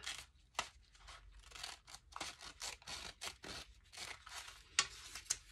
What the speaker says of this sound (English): I'm going to take some smaller scissors